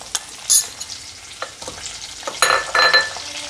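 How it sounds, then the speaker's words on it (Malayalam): Biryani masala frying in oil left from frying prawns, with mint and curry leaves: crackling sizzle in sharp bursts with stirring clatter, close and fairly loud, no talk. "ചെമ്മീൻ പൊരിച്ച ഓയിലിൽ തന്നെയാണ് ഞാൻ മസാല തയ്യാറാക്കുന്നത്."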